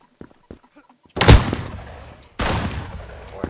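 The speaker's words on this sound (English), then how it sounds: "He's too far away for my shotgun to do much." Two sharp, loud shotgun blasts in a video game, about a second apart, each with a decaying roar. A few faint, brief sounds come before them.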